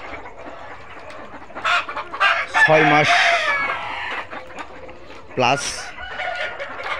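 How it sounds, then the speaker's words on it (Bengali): Tiger breed parent chickens on a poultry farm cluck and squawk, with a rooster crowing loudly nearby, while someone talks over the flock. "দেখাবো আমাদের টাইগার মুরগির প্যারেন্টস"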